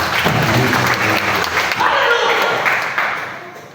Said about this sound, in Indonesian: bolehkah kau memberikan tepuk tangan buat Tuhan?